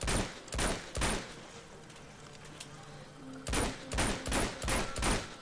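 Gunfire in Uncharted 2 sets off explosive objects: two bursts of several sharp shots, one near the start and another after a short lull, loud and punchy.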